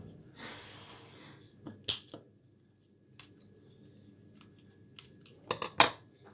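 Scissors cut paper to shape a paper rose: one sharp snip early on, then a quick cluster of crisp cuts near the end, close and clear against a quiet room.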